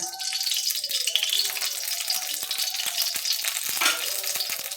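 Hot oil sizzles and crackles steadily in a wok for tempering, with a few sharp pops and light metallic clinks throughout.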